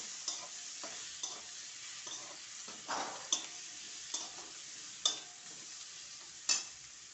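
Chopped raw green tomatoes fry in spiced oil in a pan, a quiet steady sizzle punctuated by regular scrapes and clicks of a spoon stirring, with no voices.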